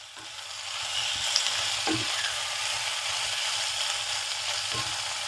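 Bitter gourd fry stirred in a kadai, a steady close sizzle of oil with occasional soft scrapes and knocks of the spoon against the pan.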